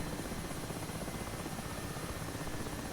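A Mi-8 Hip helicopter in DCS World holds a low hover while reversing, its rotor and turbines making a loud, dense, unbroken roar with a steady rhythmic beat and no voices over it.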